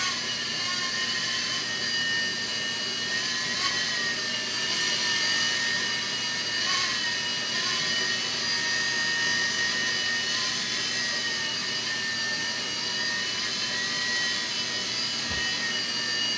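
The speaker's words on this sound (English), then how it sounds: "Now it's hovering here with no input." An E-flite Blade mSR micro RC helicopter hovers nearby, a steady high-pitched motor and rotor whine that holds evenly throughout with no talking.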